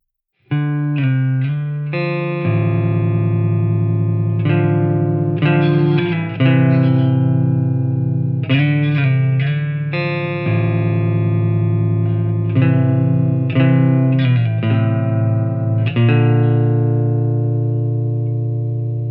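A 1960 Gibson Melody Maker electric guitar with P90 pickups plays chords and arpeggiated notes through an Astronomy Domine pedal, distorted and drenched in reverb, loud and sustained throughout with no talking.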